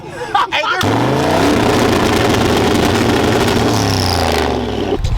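A truck engine roars loudly, revving steadily for several seconds before cutting off abruptly, with people talking just before it starts.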